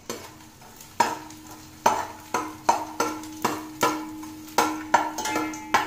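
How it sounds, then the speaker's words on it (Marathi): Edible gum (dink) frying in a pan for methi laddoo, with a steady low sizzle broken by repeated sharp stirring scrapes and knocks about once a second, close by, no talk. "चला आता आपण डिंक तळून घेऊया।"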